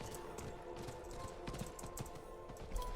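A horse's hooves clip-clop in steady rhythm as it is ridden through the Diablo IV game world, the footfalls soft and fairly distant beneath a constant background bed of game ambience.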